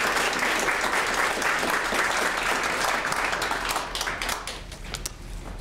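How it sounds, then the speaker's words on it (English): An audience at a community talk on homelessness applauds to welcome a speaker, dense sustained clapping that thins and fades toward the end. "would you join me in welcoming Mike Fox"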